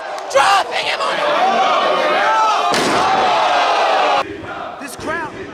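A pro wrestling arena crowd roars and cheers loudly and continuously after a piledriver, with a sharp slam at the start, excited voices and shouts mixed in, and the roar cutting off before quieter chatter.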